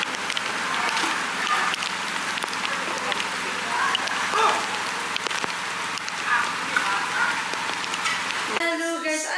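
Heavy rain pours down steadily at a house and resort construction site, a dense, close hiss of drops on surfaces throughout, with a brief burst of other sound at the very end.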